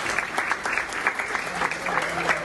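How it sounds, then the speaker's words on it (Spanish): Doctors and nurses at a clinic give steady, sustained applause, many hands clapping in a continuous patter at moderate distance, with faint voices mixed in beneath. "En medio de aplausos de médicos y enfermeras salió la inglesa de 85 años de edad"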